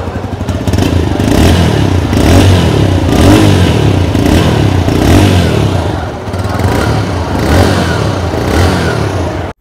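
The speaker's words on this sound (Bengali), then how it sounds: "তো চলুন বাইকটির এক্সস্ট সাউন্ড কেমন শুনে নেওয়া যাক" A TVS Raider 125 motorcycle's exhaust, loud and close, as the engine is revved in repeated throttle blips over a steady idle and then cut off at the end.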